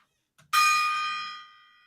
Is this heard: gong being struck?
yes